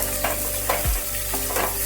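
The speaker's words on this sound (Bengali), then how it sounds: "তেল গরম হবার পর কেটে রাখা আলুগুলো আমি দিয়ে দিচ্ছি।" Sliced potatoes, six or seven cut up, drop into hot oil for jhinge aloo posto, setting off a loud steady sizzle with a few stirring scrapes and a low thump partway through.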